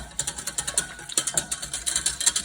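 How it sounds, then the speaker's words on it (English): A stainless steel whisk beats a sauce in a stainless steel pot, making a fast, steady run of scraping and tapping strokes close up with no talking. "And stainless steel whisk is fine in a stainless steel pot."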